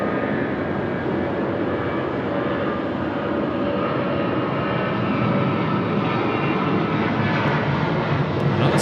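A jet airliner departs Sydney Airport on a heavy-rain night, its engines a loud, steady, broadband roar that holds throughout without talking.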